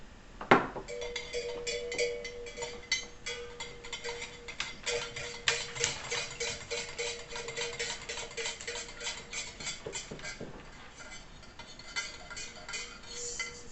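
A metal spoon stirring a mix of hot and cold water in a container, giving a long run of light, quick rhythmic clinks and ticks against the sides with one sharper knock near the start, fairly close.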